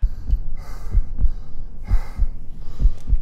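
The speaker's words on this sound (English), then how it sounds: "I can feel the pulsing of his heartbeat." Heartbeat pulsing in a horror film, deep low thuds arriving in pairs roughly once a second, with soft breathy noise swelling between the beats.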